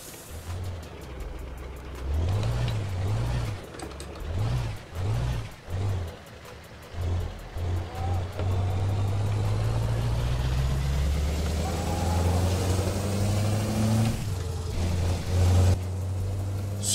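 A truck fitted with a Kurt aftermarket exhaust in Euro Truck Simulator 2 revs in short repeated bursts, then settles into a loud, steady, rising engine drone as it accelerates, heard close and without talk.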